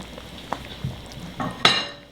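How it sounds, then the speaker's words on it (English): A spoon stirs a pot of simmering chicken noodle soup, with soft scrapes and a few light clinks against the pot, then one sharper metallic knock near the end. "stir it every now and then for about 10 to 15 minutes"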